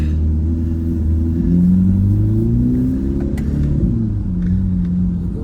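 A Corvette C8 Z06 engine revs hard and close during a burnout at a dragway, a loud, deep roar whose pitch climbs and falls in overlapping sweeps with a tire-scrub rumble underneath.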